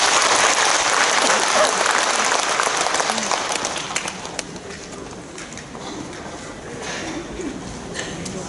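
Dense audience applause at a school entrance ceremony, loud and sustained for several seconds before thinning into scattered claps and ambient room noise.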